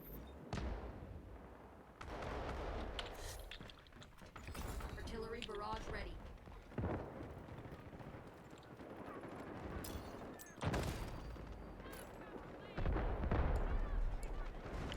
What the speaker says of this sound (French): KTK, je peux mettre un barrage d'artillerie